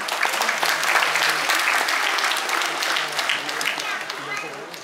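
Loud applause from an audience at a foundation day awards ceremony welcoming the managing director, a thick sustained clatter of clapping from a large crowd, with a faint voice or murmur underneath.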